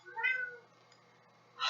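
A cat gives one clear, close meow at the start, followed by quiet and then a short burst of noise.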